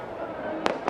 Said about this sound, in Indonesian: kemeriahan kembang api juga masih terjadi di Bundaran Hotel Indonesia